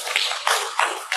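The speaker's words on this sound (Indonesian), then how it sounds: "tepuk tangan buat teman kita yang berdua" A classroom of students claps for two classmates, giving four short, evenly spaced bursts of clapping in a steady rhythm, close by and with no talking.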